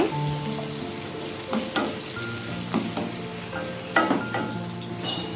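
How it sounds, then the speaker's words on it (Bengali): Sliced carrots fry in lightly heated oil with a continuous close sizzle, broken by several crackling bursts as the pan is stirred. "এবার এটা একটু ভাজি হোক দেখো গাজির কোলে ভাজা একটু হালকা হালকা ভাজি হয়ে গেছে"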